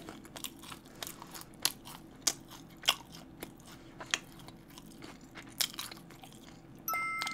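Boneless fried chicken, crispy and spicy, crunched in close bites, a string of sharp crackling crunches spaced apart with quiet chewing between, no talk.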